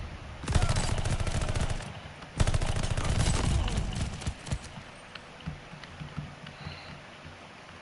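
Rapid bursts of automatic gunfire in the shooter game Call of Duty Vanguard, two long dense volleys followed by scattered lighter shots, loud and close with little else around them.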